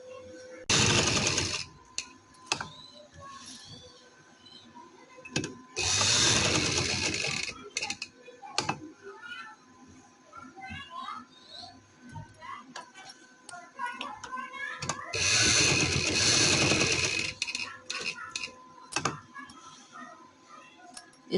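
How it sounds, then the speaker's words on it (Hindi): Sewing machine stitching the hem of a summer dress, close rapid mechanical bursts in several separate runs with quieter ticking and handling between them, and someone speaking in the gaps. "इस तरह से इसे लगाएंगे और इसके ऊपर सिलाई लगाते जाएंगे।"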